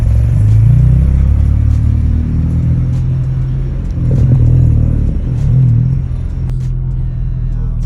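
A manual Honda Civic is given gas, its engine rumbling loudly inside the cabin with swelling pushes of acceleration and light clatter, easing off toward the end.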